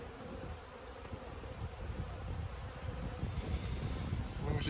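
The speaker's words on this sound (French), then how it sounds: "attention aux abeilles quand on fait ça" Honeybees buzz around an opened hive during end-of-season beekeeping work, a faint, continuous droning hum of many insects close to the microphone, swelling slightly toward the end, with no talking.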